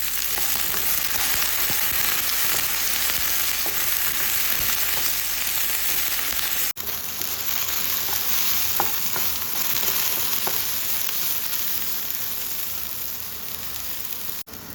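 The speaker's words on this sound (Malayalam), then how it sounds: "ചട്ടി നല്ല ചൂടായതിനു ശേഷം 2-3 മിനിറ്റ് ഹൈ ഫ്ലെയിമിൽ വെച്ചിട്ട് തന്നെ വെണ്ടയ്ക്ക ചട്ടിയിട്ട് ഇളക്കി എടുക്കുകയാണെങ്കിൽ ഇങ്ങനെ കുഴഞ്ഞു പോകില്ല കേട്ടോ" Okra tossed into a very hot pan over high flame, frying with a steady, dense sizzle and occasional stirring scrapes throughout, close and loud with no talk.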